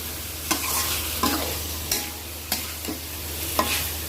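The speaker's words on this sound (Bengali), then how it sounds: "মাছটাকে মশলার মধ্যে ভালো করে কষিয়ে নেব।" Fish stir-fried in spices in a pan, with steady sizzling under regular sharp scrapes and knocks of a spatula about every half second, close and loud.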